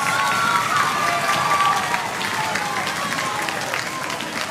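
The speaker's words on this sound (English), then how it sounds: "So give them an extra big round of applause." Applause at a children's orchestra event, a crowd clapping steadily with faint cheering, moderately loud and tapering slightly toward the end.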